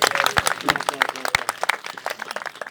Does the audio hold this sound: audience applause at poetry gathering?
yes